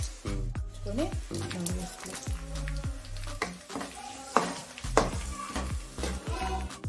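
Vadi seasoning frying in oil in a pan, a moderate sizzle under a person talking, with scattered scraping and clinking sounds.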